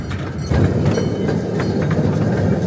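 A mine train at a transportation museum rolls along rails with rhythmic clattering and rumbling, wheels knocking steadily at close range, no voices.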